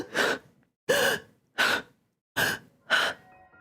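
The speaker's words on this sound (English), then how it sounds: "gasping for air" A character in the House of Petals game gasps for air five times in a row, each a sharp, breathy intake with a brief trailing exhale, evenly spaced and close up with no other sound.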